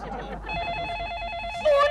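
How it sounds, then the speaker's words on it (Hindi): A telephone rings with a steady, warbling electronic tone that pulses rapidly for about a second, close and fairly loud, with faint voices and room noise around it. "फोन बजा, कितने दिनों बाद फोन बजा।"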